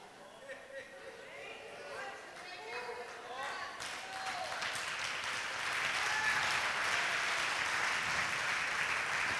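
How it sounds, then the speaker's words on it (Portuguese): A crowd breaks into applause that swells and holds steady, with a voice talking over it at the start. "Pode aplaudir mesmo, porque é verdade que eu estou falando."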